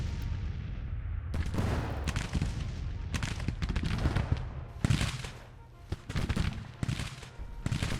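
Artillery fire in a battle from the Grand Tactician: The Civil War strategy game with the A.O.M mod, a dense run of rumbling booms and crackling shots packed together at moderate loudness.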